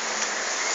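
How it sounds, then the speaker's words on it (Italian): Heavy rain pours down steadily in a continuous, dense hiss of drops on surfaces, with no voices and no break in the downpour. "c'è una pioggia maledetta già dalla sera di ieri che piove"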